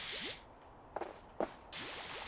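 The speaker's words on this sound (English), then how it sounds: "Oh, it makes a bubble sound." Plastic cleaner sprays in PowerWash Simulator with a loud hissing burst, then quiet bubbly pops and gurgles in short spurts before the spray hiss returns.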